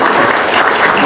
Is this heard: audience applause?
yes